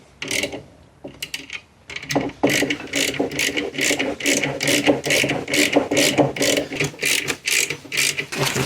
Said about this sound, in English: We are just going to put a washer and nut on to hold the fuse in place.